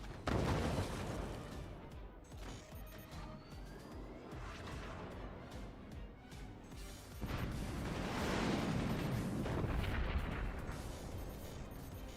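Howitzer artillery in a video game mod booms in heavy, dense blasts with rolling rumble and a whistling projectile sweep, swelling louder past the midpoint with no talk.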